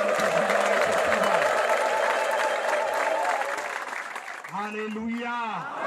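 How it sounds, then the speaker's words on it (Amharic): A church congregation applauds in praise, a thick steady roar of clapping with some trilling, that thins out before a voice speaks over the last seconds. "ይገባዋል ከዚህ በላይ ጭብጨባ"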